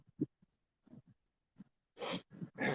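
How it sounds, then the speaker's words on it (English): A burst of noisy sneezing sounds near the end, following a few quiet breathy sounds; close and fairly loud. "hold on, man, I got to sneeze."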